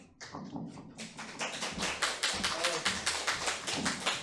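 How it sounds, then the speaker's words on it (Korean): Audience applause at a Korean church youth-group worship service, welcoming a teacher to the front; a burst of many hands clapping builds quickly and carries on steadily and fairly close, with faint voices underneath. "먼저 부장 선생님께서 나오실 때 여러분 큰 박수로 환영하도록 하겠습니다"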